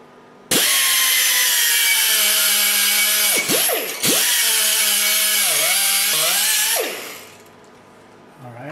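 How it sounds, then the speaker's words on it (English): Die grinder cutting metal for a clutch pedal repair on a 2018 vehicle, a loud continuous high-pitched whine with pitch dips as the tool bites, lasting several seconds before winding down. "I'm starting to cut it out using a die grinder"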